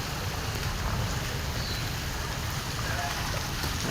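Heavy rain pouring in the flooded lanes of Lahore, a dense, steady wash of rainfall close by with no breaks.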